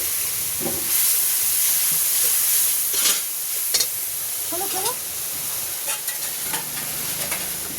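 Banana flower curry being stir-fried with coriander powder, a steady close sizzle with repeated scraping and stirring strokes, plus brief clinks from the pan and faint voices in the background.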